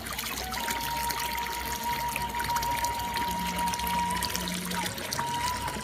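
Clear water from a mountain spring in a remote village trickles and pours steadily up close, with faint tonal sounds in the background.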